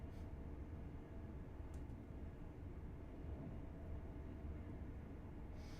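Train cab interior on the East Coast Main Line in Train Sim World 4, a faint, steady low rumble and hum of a moving train with light rattles and a couple of brief clicks.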